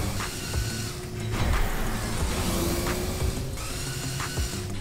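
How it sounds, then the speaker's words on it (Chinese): A LEGO Technic 42140 remote-control transforming vehicle, battery powered, rolls on its tracks with a steady mechanical whir and rattling plastic tread clicks, close and continuous, with no talking. "通过分别控制左右两侧履带的工作状态，我们可以让这辆变形车实现直行"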